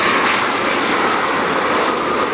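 A JetBlue Airways jet airliner roars steadily as it comes in to land, a loud, continuous broadband engine rush with no talking.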